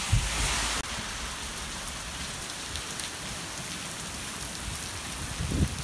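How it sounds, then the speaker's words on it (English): Heavy rain pours steadily outside, a dense continuous hiss of drops on surfaces that holds at an even, loud level throughout, with a brief louder burst at the very start and no voices. "So it's just dumping rain outside."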